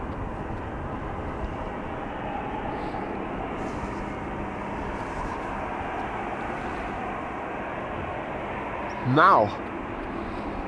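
Jet airplanes departing Amsterdam Schiphol Airport, a steady distant rumbling engine roar running throughout, with a brief short burst of voice near the end.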